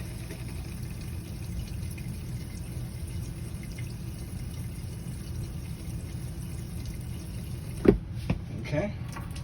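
Pink antifreeze runs through a travel trailer's toilet as a quiet, steady trickle of water, followed near the end by a few sharper splashes and clunks.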